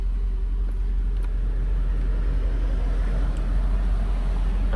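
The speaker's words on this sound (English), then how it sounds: "I'm just letting mine sit on the stands and run." A 2005 Mercedes CLK500 engine idles while the car sits on jack stands, producing a steady, close, low rumbling drone with no speech.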